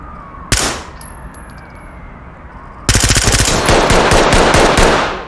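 Gunfire in the tactical shooter game Ready Or Not: a single sharp shot, then a dense, loud, sustained burst of rapid automatic fire lasting several seconds.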